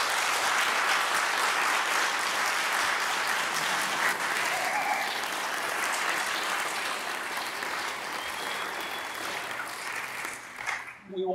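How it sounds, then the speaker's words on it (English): A large audience at a public talk claps steadily and loudly for around ten seconds, the sound thinning out and dying away in the final second. "Maybe just another round of applause for..."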